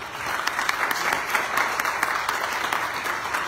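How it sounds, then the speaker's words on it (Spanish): A room of people applauds steadily at the presentation of a 15K race and walk, a continuous, moderately loud patter of many hands with a few sharper claps. "Quiero pedirles un fuerte aplauso para ellos"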